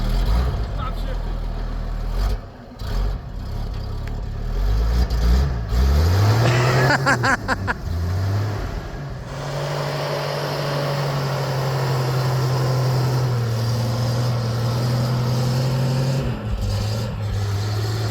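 A 70-year-old military truck's engine labours under heavy load, a steady low drone with shifting pitch as the truck creeps along, loud and continuous while people talk over it.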